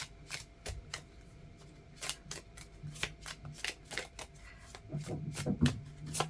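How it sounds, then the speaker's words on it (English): Tarot and Lenormand cards are shuffled by hand in a rapid run of crisp riffling snaps, close up, with quieter handling noises at the end. "I'll shuffle to 13 and split and take the top 9."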